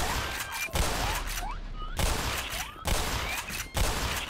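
Bursts of rapid gunfire crack repeatedly in the video game Half-Life: Black Mesa, with sharp shots, whizzing ricochets and dense, noisy volleys separated by short gaps.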